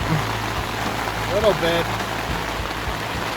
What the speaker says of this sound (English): the rain's picking up a little bit